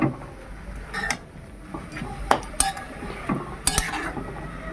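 Young jute leaves stirred in a pan, giving irregular clinks and scrapes of utensil against cookware with soft background noise, several sharper knocks spaced across the stretch.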